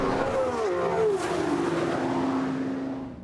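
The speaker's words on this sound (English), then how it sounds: "Look at the Lambo go." A Lamborghini Revuelto launching in a drag race against a Ferrari 12C and Aston Martin Vanquish, its engine note climbing and shifting loudly before fading away into the distance.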